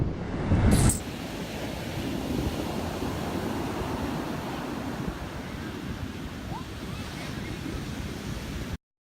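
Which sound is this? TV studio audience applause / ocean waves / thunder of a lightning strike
ocean waves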